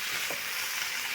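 Ingredients fry in fish oil as a dense, steady sizzle, close and continuous, with a faint stir scrape and no voices.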